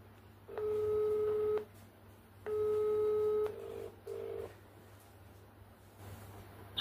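A phone call rings out unanswered: two long ringback tones separated by silence, then a couple of shorter beeps, heard faintly through a handset with no one speaking.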